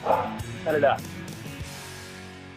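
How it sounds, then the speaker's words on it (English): A dog barks in two short bursts near the start, loud and close, while people talk over a live sports radio broadcast. "Dogs are barking. Sorry about my dog."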